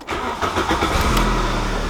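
A manual VW Golf Mk3 engine cranks and starts in neutral with no clutch pressed, a brief starter burst giving way to a steady, close idle rumble that holds for the rest of the moment.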